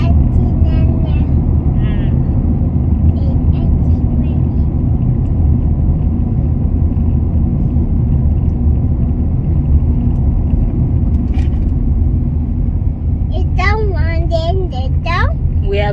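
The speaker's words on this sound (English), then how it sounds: "we are driving to town right now." A car drives on the road to town in Namibia, giving a steady low engine rumble and road noise throughout, with people talking over it and a voice near the end.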